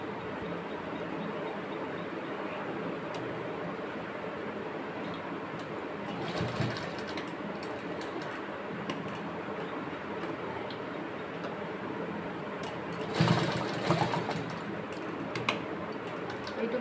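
Sewing machine stitching two pieces of fabric together, a steady close mechanical whir with faint ticking that runs continuously, with brief louder bursts.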